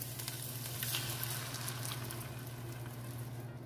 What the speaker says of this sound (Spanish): sofreímos hasta que la cebolla se torne transparente